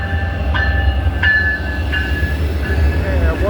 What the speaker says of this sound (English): we got locomotive 307 in the lead